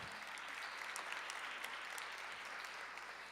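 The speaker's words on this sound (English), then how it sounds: "yep, you can clap for that." Audience applause at a city budget engagement forum, a steady wash of many hands clapping at moderate, fairly distant level throughout, with no talk over it.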